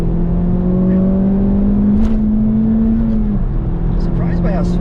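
A 2018 Honda Civic Type R (FK8) engine drones steadily at high revs in third gear, pitch climbing slightly then dropping at a shift, with a person talking over it.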